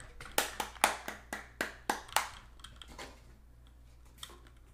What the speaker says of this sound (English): Are you clapping while talking?